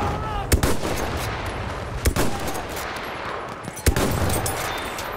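Sniper rifle shots ring out in the video game Battlefield 1, three sharp cracks spaced about 1.5 seconds apart over constant battlefield din and distant gunfire.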